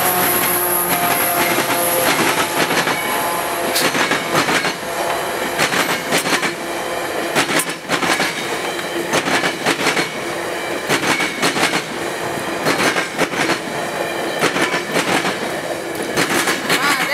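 VIA Rail's passenger train The Canadian rolls past at Winnipeg, Manitoba in spring, a loud, steady rumble with rhythmic clickety-clack of wheels over rail joints and some metallic squeal, close and continuous throughout.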